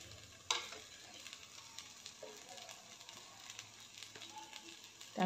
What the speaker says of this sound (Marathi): तर हे सर्व मिक्स करून चांगलं परतून घेते